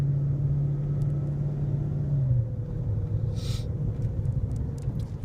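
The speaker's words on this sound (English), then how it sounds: "Let you listen to the motor" A Dodge Charger police car engine idles at a steady, deep, even rumble close by. The pitch drops slightly partway through, and there is no talking.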